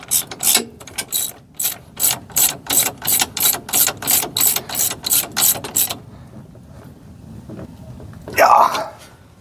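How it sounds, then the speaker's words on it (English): Ratchet wrench tightening the top nut of a Brunswick GSX pinsetter stroke limiter shock absorber, a fast steady series of a dozen clicking pulls up close, then a pause and a brief voice. "we got to tighten the top nut"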